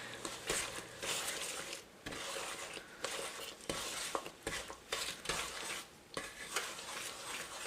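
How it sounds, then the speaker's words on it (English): Caramel boiling in a pot for caramel popcorn gets a quick stir: repeated scraping strokes of a utensil against the pot over a soft bubbling sizzle, close and fairly quiet. "so I'm going to give it a quick stir."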